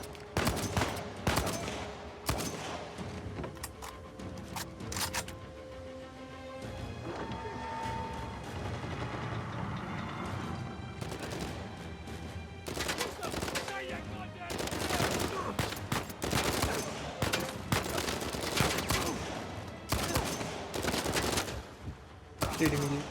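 Enemy gunfire in Uncharted 4 comes as repeated loud bursts of automatic fire mixed with single shots, thick clusters at the start and again in the second half, with game sounds and occasional talk between volleys.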